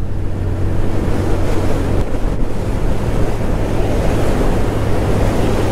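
Strong, continuous wind rushes and buffets the microphone while riding a 2024 Pulsar 150 motorcycle on an open road, a loud, steady roar that masks nearly everything else with no talk.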